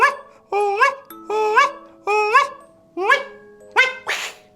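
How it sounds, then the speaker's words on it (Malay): A special whistle made for luring wak-wak birds, blown on Gunung Datuk, gives about six loud, reedy, harmonic calls, each sliding upward in pitch, repeated in quick succession and close up with no talking. "Dia macam whistle tapi ni dia buat khas untuk menangkap burung wak-wak."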